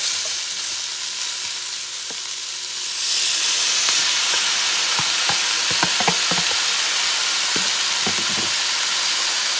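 Tomato hitting a hot stew pot for a bison oxtail stew sets off a sudden loud, steady sizzle and hiss, with scattered crackles and stirring knocks layered on top, close up.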